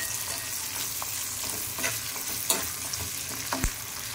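Onion, ginger, garlic and green chillies stir-fried in a pan: a steady close sizzle with a few scraping stirs and utensil knocks, and no voices.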